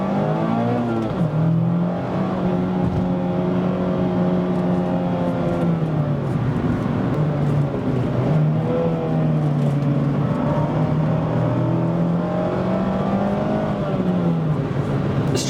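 A 2024 Mazda MX-5 Miata Club, stock, drives a canyon road, its engine droning steadily and rising and falling in pitch through gear changes and revs, loud and close throughout.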